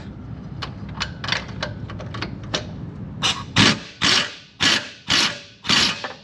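A ratchet wrench backs out the lower header studs on a 3V Mustang during a long-tube header install. Scattered light clicks come first, then five or six loud, evenly spaced ratcheting bursts close by.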